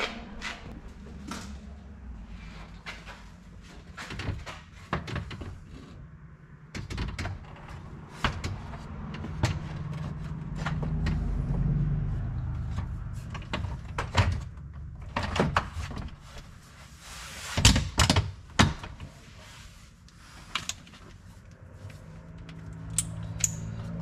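A door skin is worked back onto a Polaris RZR door, giving scattered plastic knocks, snaps and rustles with uneven pauses, close by and without talk.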